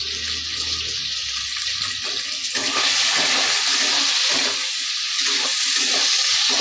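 Chopped onions fry together with potatoes in a pan for an aubergine and potato curry, giving a steady, close sizzling hiss that grows louder and fuller partway through, with no talking.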